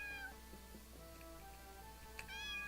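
A cat meows a few times in the RPG Maker game Legion Saga II. The soft, plaintive calls are separated by short gaps, fairly faint and alone.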